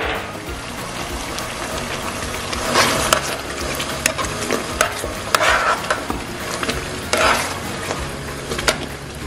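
A spoon stirs lasagna meat sauce seasoned with dried basil in a pan, scraping and sizzling steadily with irregular clinks against the pan over a continuous low frying hiss, close by and with no voices.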